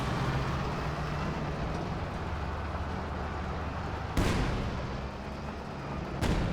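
Tank gunfire from a Panther in Company of Heroes 2, with two sharp, loud cannon blasts standing out above a dense, rumbling battlefield bed of engines and distant combat.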